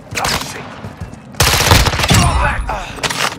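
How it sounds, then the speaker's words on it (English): Gunfire rattles in the Warzone 2.0 DMZ video game on the Vondel map, with loud rapid automatic bursts separated by short pauses. A full, heavy fusillade hits in the second half. "You are taking effective fire."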